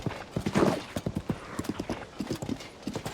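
A horse at full speed in Zelda: Tears of the Kingdom, its hooves pounding a quick, steady galloping rhythm of clear, close beats with faint talk beneath.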